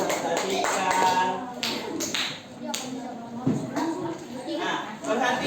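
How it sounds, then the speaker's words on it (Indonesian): A classroom of students claps for classmates who have just presented, with scattered taps and bursts of clapping under ongoing voices and chatter, moderately quiet. "Semuanya berikan aplaus kepada teman-temannya yang telah mempresentasikan"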